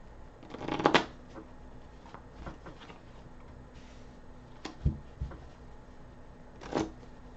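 An oracle card deck being shuffled by hand: a brisk riffling burst near the start, then scattered soft card slaps and taps at intervals, close and quiet in a calm room.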